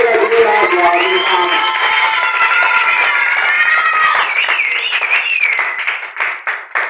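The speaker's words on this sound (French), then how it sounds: "Acclamons très fort pour la chorale." A church congregation cheers loudly for the choir: a dense crowd roar of shouts, whoops and high voices with clapping mixed in. It holds for several seconds, then thins to scattered applause.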